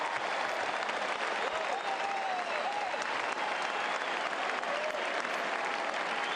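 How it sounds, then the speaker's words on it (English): A large tennis crowd at the Roland Garros final applauds in a dense, steady wash of clapping that holds throughout, with faint cheers and a commentator's voice low underneath. "Listen to the crowd."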